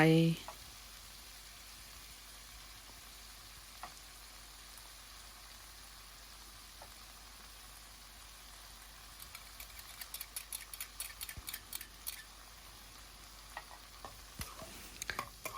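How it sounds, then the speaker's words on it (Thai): Squid being stir-fried with seasoning in a pan, a low steady sizzle with scattered crackles and spatula scrapes growing busier toward the end, quiet and close, no voices. "ผัดให้ปลาหมึกเข้ากับเครื่องปรุง"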